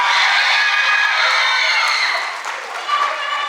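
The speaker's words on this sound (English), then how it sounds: "Please give Janiyah a round of applause." Audience at an 8th grade graduation ceremony for a school of the arts breaks into loud, dense applause with cheers and whoops, holding strong before thinning slightly toward the end.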